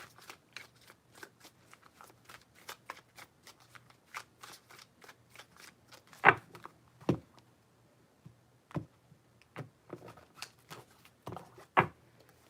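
Tarot cards riffled and shuffled in a steady run of crisp, close flutters and snaps, with a few louder slaps of the deck near the end; no talking.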